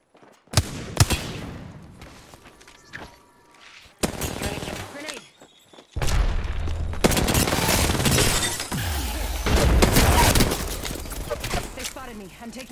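Bursts of gunfire in a shooter video game, with sharp single shots, then rapid automatic volleys growing dense and loud, along with shattering impacts and a voice speaking now and then.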